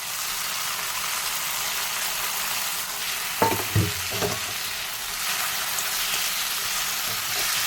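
A masala of tomato, onion paste, garlic paste and green chilli fries in a pan with a loud, continuous close sizzle, broken midway by a few spoon knocks and scrapes as it is stirred, with no talking.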